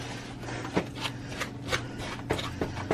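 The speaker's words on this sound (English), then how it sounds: "Whisk this all together." Brown sugar and cocoa powder being whisked together in a bowl give off a quick, quiet, rhythmic series of dry scraping ticks.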